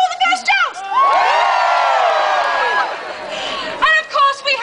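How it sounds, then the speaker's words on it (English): A fair crowd with knights and jousting erupts into loud cheering, whoops and shouts from adults and children, swelling for a few seconds before fading as voices return. "Let's all just cheer."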